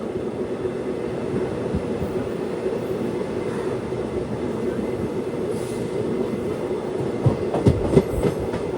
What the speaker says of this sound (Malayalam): ട്രെയിൻ ഇപ്പോൾ ചാലക്കുടി റെയിൽവേ സ്റ്റേഷനിലേക്ക് ഇതാ എത്തുകയാണ്